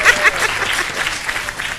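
Applause and cheering from a crowd of high school students at a Lycée Limamoulaye event, brief and lively, with a few raised voices and some chuckling mixed into the clapping.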